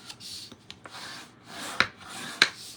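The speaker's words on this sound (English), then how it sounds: "I'm going to grab my bone folder, and I'm going to fold and burnish" A bone folder creasing and burnishing folded paper for a heart-shaped cake treat holder: soft repeated rubbing and scraping strokes, with two sharper crisp swipes near the end, close and alone.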